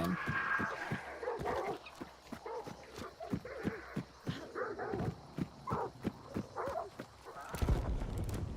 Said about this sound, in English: I did not mean to set those dogs off.